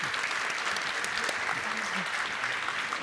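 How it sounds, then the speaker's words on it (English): An audience at a fireside chat on accelerating AI for science claps steadily for about three seconds, a dense, even patter of applause throughout. "Can I please have a round of applause for Brian and Alexis?"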